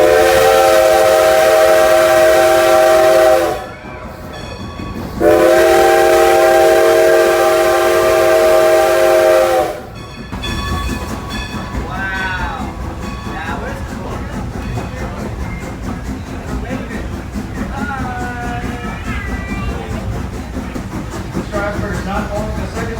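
A Strasburg Railroad train sounds two long, loud whistle blasts, followed by the rumble and clatter of the rolling train with faint voices mixed in.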